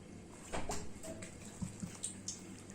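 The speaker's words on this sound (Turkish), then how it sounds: "Şimdi suyu yavaş yavaş yediriyorum ben hamuruma." Water poured slowly into dough being kneaded for gözleme and sac böreği, heard as soft splashing and wet squelching taps, close and fairly quiet, with no talk.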